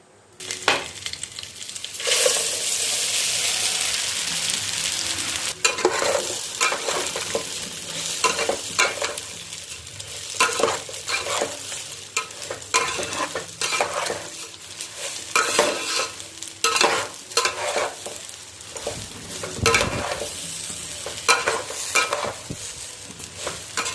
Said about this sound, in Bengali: এদিকে দেখো ভালোভাবে চালটা আমি ভাজছি